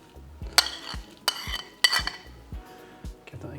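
Blanched asparagus and spring vegetables being tossed in a vinaigrette, with several separate clinking scrapes of a utensil against a bowl, close and fairly loud, spaced about half a second apart.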